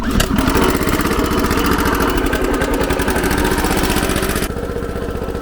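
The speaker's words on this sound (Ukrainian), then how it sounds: "Дати трошки газку і заводиться з газом." A buggy's engine, converted to run on gas, cranks and catches, then settles into a loud, rapidly chugging mid-pitched idle close by, with the rhythmic firing pulses continuing steadily throughout.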